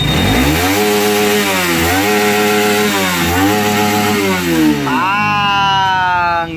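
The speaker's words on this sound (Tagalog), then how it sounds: "Isang rev bomb nga dyan, Kuya Jim." A car engine with a worn timing chain revs hard several times in a row, each loud rising surge falling back, close up, ending in a higher sustained rev.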